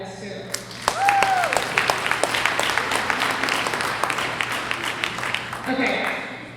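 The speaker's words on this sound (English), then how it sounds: "So just round of applause to all of you guys too." Audience applause breaks out at a community soup fundraiser event, a dense burst of clapping that starts suddenly, holds steady for several seconds, then tapers off, with a brief whistle-like tone near the start.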